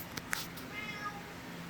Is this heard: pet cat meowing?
yes